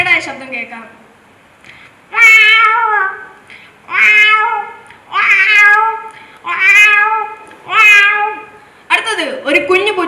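A mimicry performer at a state school arts festival imitates a cat meowing, a brief spoken lead-in followed by five drawn-out, whiny meows in steady succession, close and loud.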